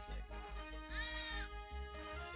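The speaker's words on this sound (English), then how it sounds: "Don't like that he keeps throwing these sheep at me." Cartoonish sheep bleats from the video game Wand of Gamelon, as sheep are thrown at the player: a few wavering, nasal bleats over steady game music, loud and close, with no talk.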